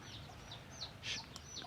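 Chickens at a market in Myanmar give a few short, faint clucks and squawks over a low background murmur.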